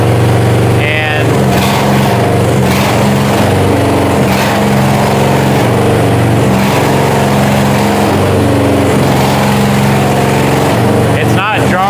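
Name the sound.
Chinese mini excavator engine running at over half throttle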